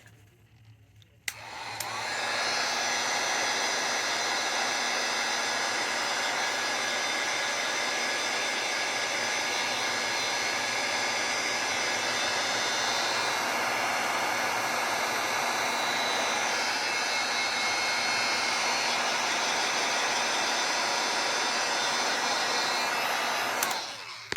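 Hot air dryer, a heat tool, blowing over fresh paint on a mesh wreath rail, switching on after a moment and holding a loud, steady rushing whoosh for over twenty seconds before cutting off.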